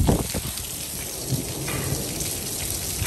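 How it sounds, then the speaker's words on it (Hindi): Heavy rain pours steadily outside a new home with overhead pergolas, a dense continuous hiss of falling water at an even loudness throughout, with no voices. "ये देखें माशाल्लाह बारिश कितनी ज़ोरों की बरस रही है"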